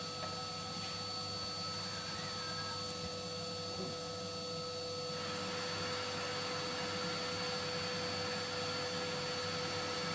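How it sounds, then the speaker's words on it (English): A vacuum cleaner runs loud and constant, sucking up debris from a water-damaged MI Fires 5kW wood stove, with a whining motor tone and brief rattles from material being pulled in. "Let me just hoover it so it doesn't go everywhere."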